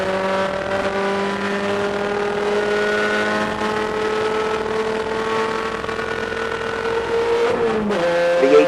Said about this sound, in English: but Joseph Domino in the 0-1, who is running in third spot in PTE, is right in the middle of that battle for the PTD lead